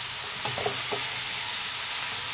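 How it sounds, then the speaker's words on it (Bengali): Chopped bottle gourd tipped into a hot frying pan, a continuous loud sizzle with a few soft thuds and stirring scrapes near the start. "কেটে রাখা লাউগুলো দিয়ে দিলাম।"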